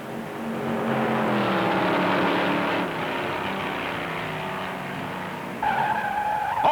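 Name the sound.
1958 stock car skidding, spinning off the track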